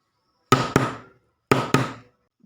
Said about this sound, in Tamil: கதவை வேகமாக தட்டுதுரா